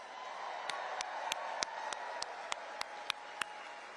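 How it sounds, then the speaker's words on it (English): Sustained crowd applause at a Donald Trump rally in Uniondale, a wash of clapping with about a dozen sharp, regularly spaced percussive cracks standing out above the crowd. "Give yourself a round of applause."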